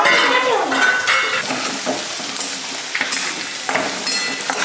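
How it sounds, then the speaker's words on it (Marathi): Onion for poha sautés in a pan with loud metallic spatula scrapes and clinks over a steady sizzle, the stirring strokes coming in irregular bursts close by. "मस्त कांदा परतून घेऊ."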